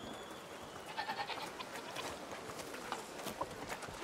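Goats bleat softly at a distance in a medieval village market in A Plague Tale: Requiem, with a few faint calls and light hoof clatter over quiet ambient noise.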